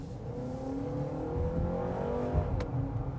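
A 2026 Honda CR-V TrailSport with a CVT accelerating: a steady engine drone rising in pitch in stepped, shift-like surges, heard from inside the cabin with no talking.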